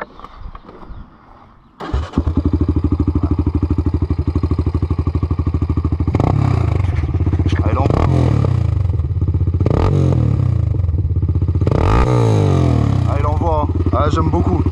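A quad fitted with a Chinese aftermarket exhaust with the baffle removed starts up and idles with a loud, close, throbbing roar, then is blipped in several sharp revs that rise and fall.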